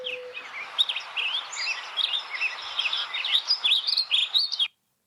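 Wild birds, including a spotted towhee, chirp and sing in a dense outdoor chorus, with a short low owl hoot at the start and busy overlapping calls that run for several seconds before stopping abruptly.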